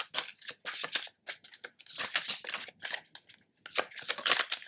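Tarot cards being shuffled by hand close by: a string of quick papery riffles and flicks in uneven bursts with brief gaps, fairly quiet, with no one talking.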